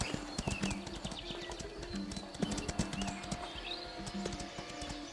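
A horse gallops at speed in the video game Ostwind, its hooves thudding in a quick, regular rhythm, close and steady, with occasional bird calls in the background.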